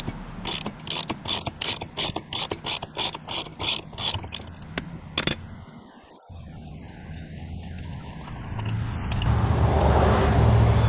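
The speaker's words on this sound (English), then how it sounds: "Ratchet is the more convenient of the two." Ratchet wrench loosening the axle castle nut on a Harley-Davidson Sportster motorcycle wheel, a close run of about a dozen quick ratcheting clicks in the first five seconds, then a steady low background hum rising toward the end.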